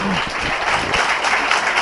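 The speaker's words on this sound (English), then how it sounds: "I think you all deserve a loud round of applause, children" Children applauding at a conference session: a dense, steady wash of many small hands clapping together, fairly close and even in loudness throughout.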